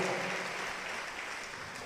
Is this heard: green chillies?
no